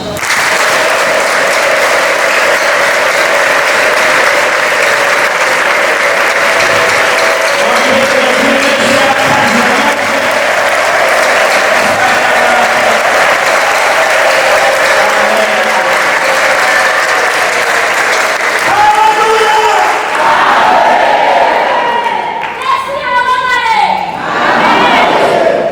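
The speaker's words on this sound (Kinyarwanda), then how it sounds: "Mumuhe amashyi." Sustained audience applause fills a church worship service, loud and steady with crowd noise throughout, fading as a few voices and shouts break through near the end.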